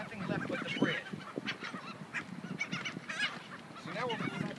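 Geese and other fowl squabble over bread at a feeding frenzy, with loud overlapping honks and squawks coming in rapid bursts close by, and faint human voices mixed in.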